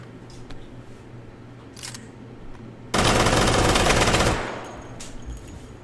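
A Vector fires a rapid full-auto burst in the VR game H3VR, a loud dense rattle lasting about a second and a half that follows quiet handling clicks and then fades into a short tail.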